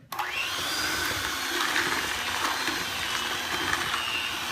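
An electric mixer beats chocolate chip cookie dough for crispy cookies, a steady close whirring motor hum that starts abruptly and holds an even, loud drone throughout.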